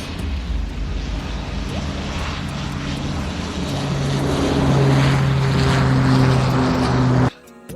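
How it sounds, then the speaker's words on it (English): A loud, steady airplane engine roar drones continuously with a low humming tone that swells slightly before ending abruptly. "airplane"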